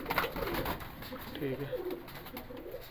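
Seth breed pigeons, part of a group of about fifteen pairs kept for sale, coo in soft repeated low murmurs close by, while someone speaks briefly over them.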